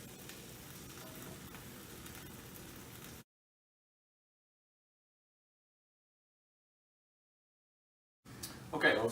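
Eggs fry on a hot griddle turned down to almost low, giving a steady soft sizzle like light rain for a few seconds, then dead silence, then a louder crackling burst near the end.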